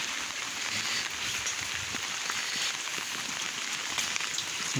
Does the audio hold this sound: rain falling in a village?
yes